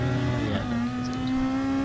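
Race car engine in a racing video game at Spa-Francorchamps: a steady, droning engine note that holds one pitch and shifts slightly midway, moderately loud and without speech.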